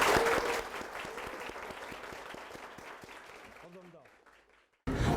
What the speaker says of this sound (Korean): 박수 치고 끝내자.